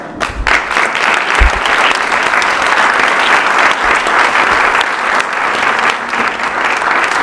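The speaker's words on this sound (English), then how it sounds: "Can we please have a huge round of applause?" An audience claps loudly at the Annapolis 2025 mayoral forum hosted by the League of Women Voters: thick, continuous applause filling the room from start to finish, with no speech on top.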